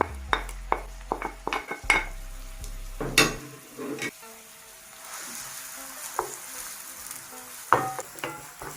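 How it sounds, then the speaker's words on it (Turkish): Onions sizzling and frying in olive oil in a pan, with repeated clinks and scrapes of a utensil stirring against the pan, close up. "Soğanları şöyle sık sık karıştıra karıştıra güzelce kavuralım."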